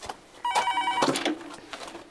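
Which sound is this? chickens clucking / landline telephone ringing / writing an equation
landline telephone ringing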